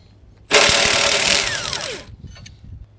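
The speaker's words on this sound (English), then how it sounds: "I've just got an impact gun with a socket and a 15/16 wrench here." An impact gun with a 15/16 socket removes a hitch bolt in one loud, close burst of rattling hammering lasting about a second and a half, then winding down as the tool spins out.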